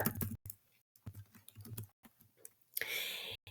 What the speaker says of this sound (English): let me type it here